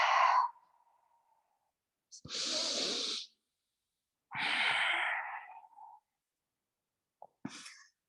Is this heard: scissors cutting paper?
no